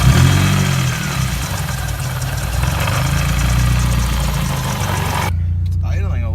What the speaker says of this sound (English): It's idling a little rich, but that's okay.